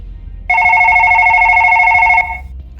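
A telephone bell rings as a tabletop role-playing game sound effect, one bright continuous trill of about two seconds that starts abruptly and stops cleanly, loud and close over a faint room hum, with no talk.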